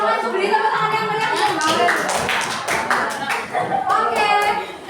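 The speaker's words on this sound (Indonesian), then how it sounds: "Oke, silakan beri tepuk tangan yang meriah." Schoolchildren give lively applause in class, a loud burst of many hands clapping that fills the room, with children's voices calling out over the claps.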